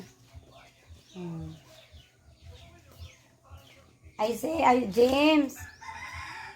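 Quiet voices talk at first, then a rooster crows loudly and nearby, one long drawn-out call.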